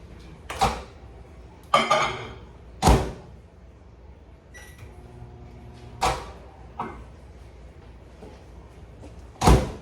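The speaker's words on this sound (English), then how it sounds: "I'm going to put it in the microwave for about 30 seconds" Several sharp clunks and clicks of a microwave oven door opening and closing, with handling noises and a faint hum of the oven running between the knocks.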